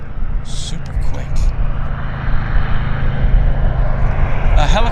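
A Boeing airliner taking off at Vancouver Airport (YVR) produces a loud, continuous low engine roar that fills the whole stretch. A voice can be heard over it.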